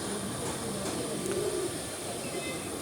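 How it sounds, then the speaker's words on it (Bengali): Teddy pigeons at a pigeon farm give soft low coos under a steady hiss of background noise, with one clearer coo standing out in the middle. "টেডি কবুতর।"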